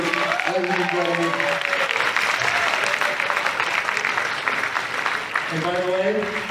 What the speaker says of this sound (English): Round of applause for the Haggis brothers, ladies and gentlemen.